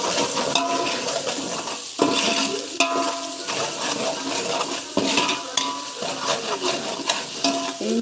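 Ingredients sauté in a hot pan with rock salt, a spoon scraping and clinking against the metal in regular stirring strokes over a continuous close sizzle.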